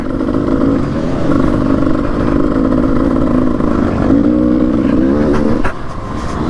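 A 300cc two-stroke enduro motorcycle ridden through rutted ground at a trail scramble, its engine droning loud and close with a steady buzzing tone that dips briefly near the end.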